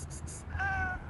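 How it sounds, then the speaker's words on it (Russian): A cat gives a short, tonal meow among several cats indoors, sounding fairly close and rising briefly over low room noise. "Кто тут мяукает рядом со мной?"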